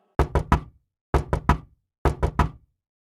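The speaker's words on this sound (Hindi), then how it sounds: "उसे गेट बजाने की आवाज आती है।" A gate is knocked on at night in three quick bursts of three sharp raps each, evenly spaced with silence between, loud and close.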